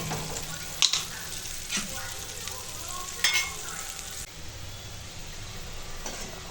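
Turmeric, hot chilli powder and Kashmiri chilli powder fry in a pan for a Bengali curry, giving a steady close sizzle with a few sharp clinks and scrapes of stirring. No one speaks.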